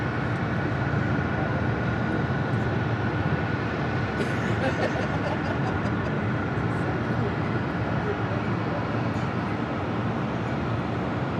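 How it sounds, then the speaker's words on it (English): Fiji Airways Airbus A350-900 jet taking off at LAX, a steady loud broadband engine roar that holds for the whole stretch, with voices talking faintly over it. "Fiji Airways Flight 811 taking off to Nandi on the A350-900."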